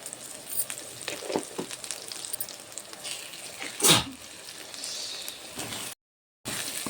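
Chili powder and rock salt frying and being stirred in a pan for a tamarind fish curry, a steady close sizzle with a sharp burst of scraping near the middle and a brief silent gap near the end.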